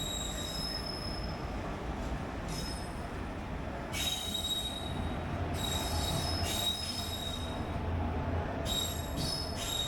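A passenger train pulls into a station, its wheels squealing loudly in repeated high-pitched bursts over a steady rumble of rolling railcars, continuous and close throughout.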